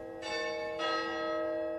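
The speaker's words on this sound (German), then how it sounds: "Der Glockenschlag des Basler Münsters." Two deep, ringing strikes of the Basel Minster church bell, the second following the first closely, each with a long, rich tonal decay that hangs in the air.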